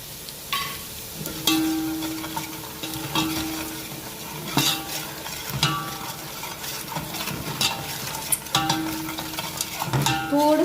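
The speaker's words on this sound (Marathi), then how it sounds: "भाजून घ्यायचं कॉर्नफ्लॉवर तेलामध्ये" Cornflour roasting in oil in a pan while making a vegetarian white rassa, with a steady close sizzle and frequent stirring scrapes and clinks of a spoon against the metal pan.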